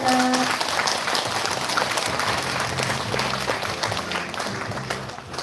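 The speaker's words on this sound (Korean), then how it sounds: "다시 한 번 박수 부탁드리겠습니다." Dense, sustained applause from a concert audience at a memorial music concert honoring veterans, steady and loud throughout with no voices standing out.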